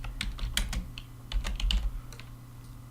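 Keys clatter on a computer keyboard in quick irregular bursts of clicks, a short flurry then a pause, then another run, close and moderately loud over a steady low hum.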